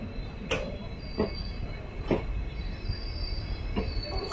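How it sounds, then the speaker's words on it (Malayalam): Madgaon Express passenger train stopped at a small station, with steady low rumble of the carriages and idling equipment, punctuated by several brief metallic squeals and clanks from the wheels and couplings spaced a second or so apart. "അപ്പം അങ്ങനെ നന്ദിക്കൂർ സ്റ്റേഷനിൽ നമ്മൾ നിർത്തിയിരിക്കുകയാണ്."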